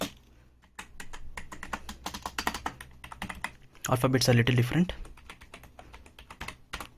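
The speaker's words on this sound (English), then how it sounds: "let's see the sound of the particular keys in this keyboard" Keys clacking on a Redgear MT02 RGB computer keyboard with a knob control, a quick close run of crisp taps, briefly covered by a voice speaking, then the typing resumes.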